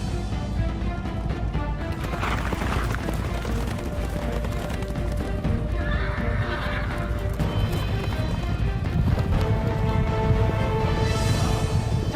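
Horses of a mounted medieval English force gallop in a battle scene, a loud, continuous drumming of hooves with occasional whinnies and crashes over a dense rumble.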